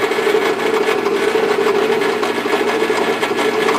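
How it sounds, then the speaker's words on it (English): Steady, continuous whirring drill grinding through a wooden fingerboard, loud and close, holding a constant pitch for several seconds with no talking. "and just drill through"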